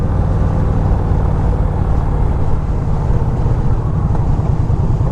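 An Indian Scout Sixty motorcycle engine under way, a steady, loud, low rumble that holds evenly throughout with constant wind-like roar over it.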